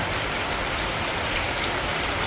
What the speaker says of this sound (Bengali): বৃষ্টি হচ্ছে ড্রেন ট্রেন ভর্তি হয়ে গেছে